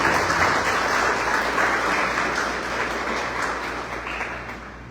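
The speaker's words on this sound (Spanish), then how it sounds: "¿Cuántos dan un fuerte aplauso a nuestro Dios?" A church congregation applauds during a sermon, a steady wash of clapping that holds at even strength and slowly fades over the last seconds.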